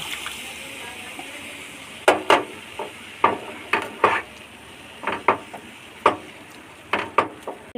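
A spoon stirring milk into a mixture in a pan for pantua, about a dozen short scraping strokes in an uneven rhythm over a soft steady hiss.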